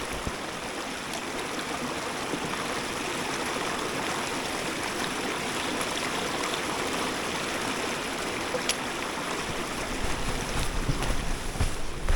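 Steady rushing and babbling of a creek along a left fork in a Utah canyon, a continuous broadband wash of flowing water heard close and evenly loud, with no voices.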